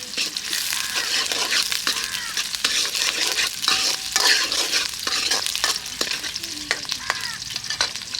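Onions sizzling and frying in a pan while a home cook stirs them for a chicken curry with broad beans, a steady close crackle broken by frequent scraping stirs throughout.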